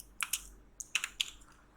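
Brief bursts of computer keyboard typing, a few quick close keystrokes in small clusters against a quiet room.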